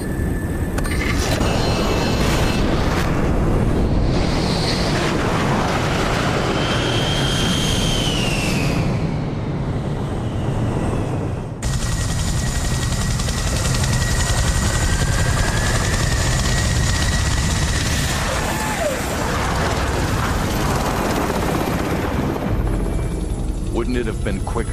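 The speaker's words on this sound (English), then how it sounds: "VTOL jets in position, ready for deployment." VTOL jet aircraft engines roar loudly and continuously, a dense whine and rumble with shifting tones and a brief break midway, close and dominant throughout.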